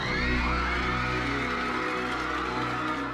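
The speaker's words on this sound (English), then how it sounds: "Crowds were going crazy" A large crowd at the Titanic film premiere in Japan cheers and whoops loudly and without a break, a dense wall of excited shouting close by.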